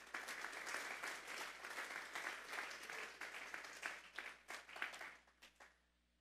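A church congregation applauds, a dense, even round of clapping that holds steady and then thins out and fades at the end, with no voices over it.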